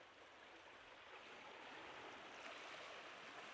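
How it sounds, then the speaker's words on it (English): Ocean waves on a shore in the video game Persona 4 Golden, a soft, steady wash of surf that rises slightly, very faint and distant, with no talking. "The only sound you hear is the crashing of the waves."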